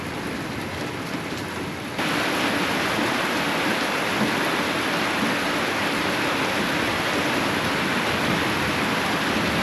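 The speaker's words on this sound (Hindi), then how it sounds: "नींद मेरी बारिश की आवाज़ से खुली है।" Heavy rain pours steadily in a mountain valley in Uttarakhand after a hot afternoon, a dense, even hiss that swells louder after about two seconds and then holds without pause.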